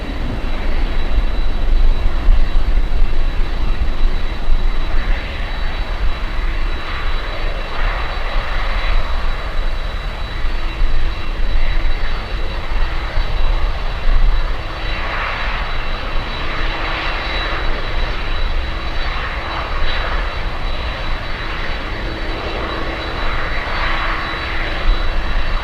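A Swiss airliner lands at Miami International Airport: a loud, continuous jet-engine roar, close and steady throughout, with no voices.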